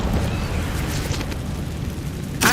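An Incendio fire spell cast in the Hogwarts Legacy video game: a steady, full-bodied fiery roar with a rumbling low end runs throughout, ending in a sharper burst.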